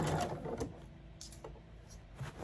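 A sewing machine finishes a long seam on an Atomic Starburst quilt project, a brief quiet whir fading into soft intermittent clicks and fabric handling close by, without speech.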